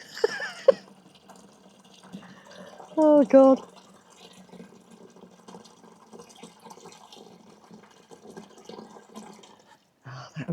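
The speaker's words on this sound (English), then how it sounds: "That is the water butt running." Water trickles quietly from a garden water butt into a container, a faint continuous running under a brief exclaimed voice and a short tonal sound.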